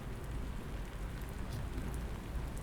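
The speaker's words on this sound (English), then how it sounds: "Rain pattered across the window of my dingy apartment." Steady rain pattering on a window during a November night storm, a dense continuous wash of drops heard alone at an even level throughout, with no voices.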